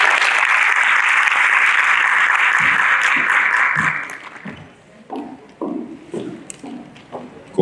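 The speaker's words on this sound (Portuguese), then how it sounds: "Palmas para Raquel Peralva Menezes." A crowd applauds steadily for several seconds, then the clapping thins out into scattered claps and a few faint voices.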